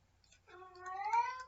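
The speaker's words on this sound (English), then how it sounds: "That is my cat hollering in the background." A bored pet cat gives a single faint, drawn-out meow that rises in pitch, heard alone in a quiet room.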